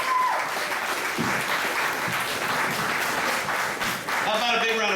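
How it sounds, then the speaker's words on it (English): Sustained, dense audience applause fills the room at an event unveiling research plans, loud and steady, then briefly dips before swelling again, with a faint voice rising at the very end. "How about a big round of applause for Jim?"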